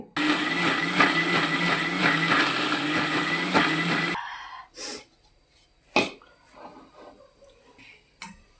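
A mixer grinder blends coconut chutney with soaked tamarind and salt, giving a loud, continuous whirring grind for about four seconds that stops abruptly, followed by a few scattered knocks and taps as the jar is handled.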